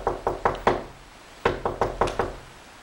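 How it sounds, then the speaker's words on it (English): Knocking on a window pane in a suburban backyard where a coyote is eating berries: a quick run of four sharp knuckle raps, a short pause, then five more, close and crisp with no voices. "Knock on the window and see if it..."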